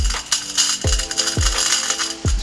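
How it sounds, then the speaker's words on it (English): A small Otistar desktop vacuum running on a barbershop workstation, a steady hissing whir broken by a few sharp rattling clicks as crumbs are sucked up. "it's a nice little desktop vacuum"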